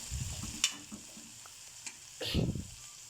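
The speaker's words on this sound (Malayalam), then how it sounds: "കുറച്ച് കൂടെ ഓയിൽ ഒഴിച്ച് കൊടുത്തിരുന്നു നന്നായിട്ട് അങ്ങോട്ടും ഇങ്ങോട്ടും ഇളക്കി ഫ്രൈ ചെയ്തെടുക്കാം" Okra fries in oil in a chili-style preparation and is stirred back and forth, so a quiet sizzle is broken by intermittent spatula scrapes and a louder stirring burst toward the end.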